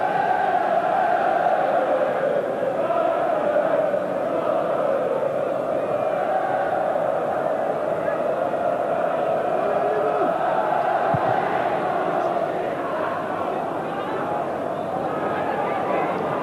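A football crowd at Coventry City v Arsenal, a First Division match in December 1987, holds a sustained, swelling roar across the stadium while a commentator talks over it.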